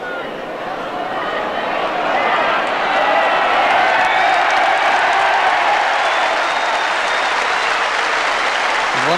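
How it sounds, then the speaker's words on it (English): A huge crowd gathered around a bowls green at a 1984 world singles final roars and applauds, a loud sustained wash of clapping and cheering that swells after the first couple of seconds and holds steady. "once again we hear that roar from the huge crowd now gathered around this green"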